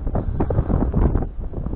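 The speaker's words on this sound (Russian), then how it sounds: "по порывам ветра никаких 5 метров в секунду речь не идет, метров 10 на антифоне" Strong wind gusts buffet the microphone outdoors on a cold day of roach fishing, producing a rumbling low roar that surges and eases over a couple of seconds.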